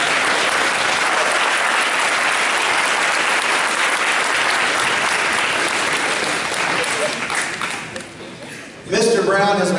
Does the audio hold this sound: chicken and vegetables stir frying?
no